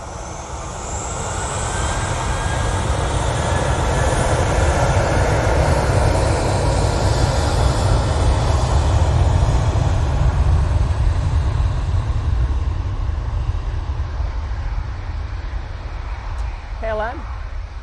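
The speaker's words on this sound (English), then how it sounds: "737 departing back to Amsterdam Schiphol after night stopping." A KLM Boeing 737 departs Manchester Airport with a loud, steady jet roar that builds and holds throughout, close and continuous.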